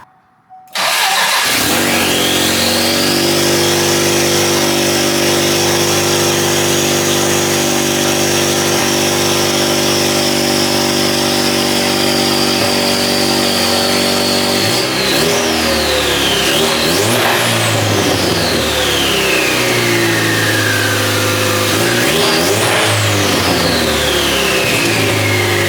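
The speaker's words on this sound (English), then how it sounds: "chance to hear the 4-banger turbo sounds on the car" A 1979 Mustang swapped to a 2.3L EcoBoost turbo four-cylinder cranks and fires, settles into a loud steady idle, then is revved sharply several times with rising and falling turbo four-cylinder bursts, close up with no talking.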